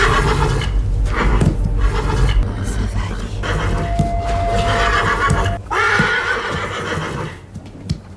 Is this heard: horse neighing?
yes